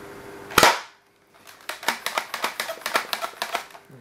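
A modified clear Nerf Raider 3000 blaster is pumped up, starting with one loud snap and then a quick series of about ten sharp, close plastic clacks in a steady rhythm.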